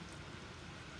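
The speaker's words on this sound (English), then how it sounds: "It's absolutely pouring it down." Heavy rain pours down steadily, a dense continuous hiss of drops on surfaces, fairly faint and even with no voices.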